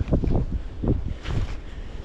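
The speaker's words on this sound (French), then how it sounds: "Je suis désolé pour le vent" Wind gusts buffet an outdoor microphone in a castle courtyard, a rough low rumble that swells and fades across the clip with no voices.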